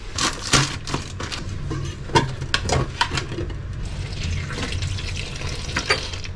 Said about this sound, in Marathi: आता आपल्याला हे चांगल्या स्वच्छ पाण्याने धुवून घ्यायचं आहे.